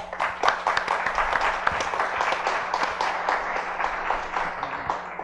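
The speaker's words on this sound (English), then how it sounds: "Round of applause for Paul" An audience at a monthly social media meetup gives a round of applause, with dense overlapping claps, moderately loud in a room, holding steady throughout with a faint hum underneath.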